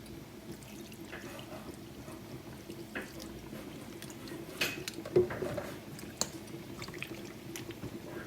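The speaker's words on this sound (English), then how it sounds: "I'm going to add some water to it." Water poured into a cooking pot for boiling Jamaican meat, a faint trickling and splashing with a few louder clinks near the middle, under quiet room background.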